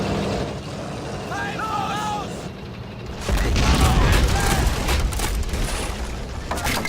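Gunfire crackles in the World War II video game Men of War during a Soviet campaign battle. Quieter action with a voice comes first, then a loud, dense burst of shots and booms dominates the second half.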